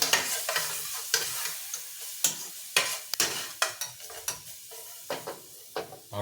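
Onions and garlic sauté in a pan, a steady close sizzle broken by repeated sharp scrapes and clacks of a utensil stirring against the metal at a brisk, uneven rhythm.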